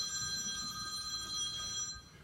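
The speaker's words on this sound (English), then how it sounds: "her phone rang." A phone rings with a steady, bright electronic trill that holds level and then cuts off, heard on its own at a moderate distance.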